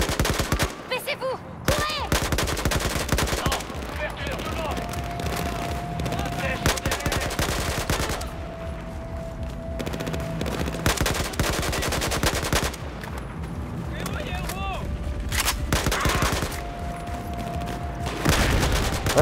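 Rapid automatic gunfire in the snowy Battlefield 4 game, dense bursts of shots with sustained fusillades over much of the span and short pauses between volleys.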